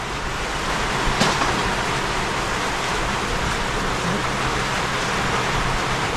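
Heavy rain pours down on a dark day, a dense, steady wash of hiss that runs unbroken and fairly loud throughout, with no other clear sounds.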